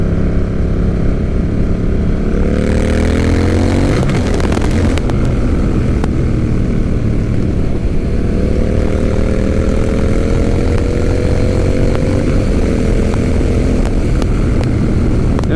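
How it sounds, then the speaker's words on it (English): A Honda Rebel 1100 motorcycle revs hard in a tunnel, its exhaust rising in repeated climbing pitch sweeps between gear changes, loud, close and echoing, with no talking. "this tunnel, the best for exhaust."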